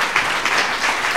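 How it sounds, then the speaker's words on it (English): Audience applause at a community storytelling event run by an immigrant storytelling organization: a steady wash of many hands clapping, fairly close and loud, with no voices over it. "A round of applause for everybody who is volunteering and working with Capital Storytelling."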